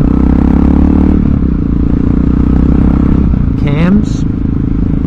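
Motorcycle engine with gear-driven cams running nearby, giving a steady mechanical drone and whine, with someone talking over it.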